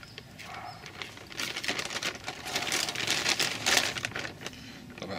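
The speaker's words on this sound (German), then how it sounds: "So, jetzt kommt das Ganze in eine Tüte." A container of Hydrangea macrophylla cuttings is slipped into a plastic bag, the thin plastic crinkling and rustling in irregular bursts that grow fuller toward the middle before easing off.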